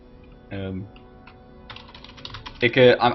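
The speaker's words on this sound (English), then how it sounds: "just typing to the players right now." Quick bursts of keyboard typing, a short flurry of clicks, with a voice speaking briefly before and after.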